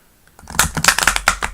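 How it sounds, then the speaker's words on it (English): Tarot cards being shuffled by hand close up: a burst of crisp, rapid clicking and flapping of card stock that starts after a brief silence and continues in quick irregular snaps. "That deserves one more shuffle."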